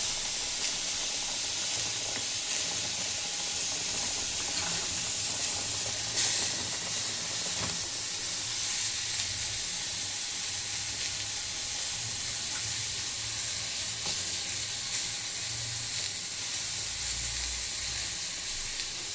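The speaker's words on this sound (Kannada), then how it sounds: "ಇವಾಗ ಹಾಕ್ತೀನಿ ಸೊಪ್ಪನ್ನ. ನುಗ್ಗೆ ಸೊಪ್ಪು ಚೆನ್ನಾಗಿ ಬೇಯಬೇಕಲ್ವ, ಹಂಗಾಗಿ ಹಾಕ್ತೀನಿ ನುಗ್ಗೆ ಸೊಪ್ಪನ್ನ." Drumstick leaves cooking in a hot pan for a spicy red dish, a continuous loud hiss and sizzle with steamy crackle that holds steady throughout, a few faint clinks, no talking.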